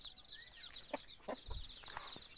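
Two broody Gavran desi hens, free-ranging, give a few short, faint clucks, with a higher bird call and light rustling nearby in a quiet outdoor yard.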